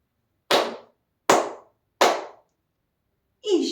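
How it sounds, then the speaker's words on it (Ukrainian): Three sharp, evenly spaced hand claps ring out alone during a children's counting game in an online preschool math lesson, followed by a brief voice at the end. "Плескаємо в долоні тричі."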